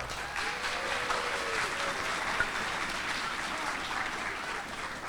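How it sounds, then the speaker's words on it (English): Audience applause at a first-grade school performance, clapping for a teacher: steady, moderately distant clapping throughout, with faint voices underneath. "Let's give a round of applause to Mrs. Veloso"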